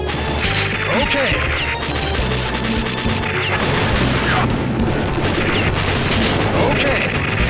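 Heavy machine gun fire in the arcade game Metal Slug 3, a dense, loud stream of rapid shots and explosive crashes running throughout amid busy game music and effects.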